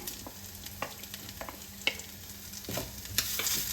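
Finely chopped medium onion frying with ginger-chili paste in a pan, a soft, steady sizzle broken by frequent spatula scrapes and clicks, close but fairly quiet, with no voices.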